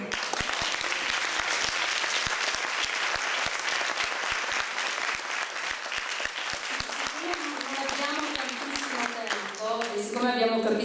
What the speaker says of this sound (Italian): di là ci sono gli applausi per questa parte e di là ci sono gli applausi per questa parte